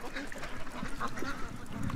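Geese honking and quacking close by in an outdoor setting, a mix of short calls scattered over steady background noise, with someone talking over them.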